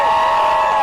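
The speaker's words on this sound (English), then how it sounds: "Why are you cheering?" Crowd at a political speech cheering and whooping in a steady, dense roar, close and loud, with no clear talk over it.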